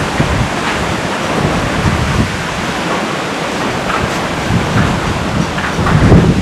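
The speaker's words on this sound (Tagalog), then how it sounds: "Sobrang lakas na ng hangin" Strong wind roars continuously, buffeting and gusting in a dense, steady rush with no voices, before any rain.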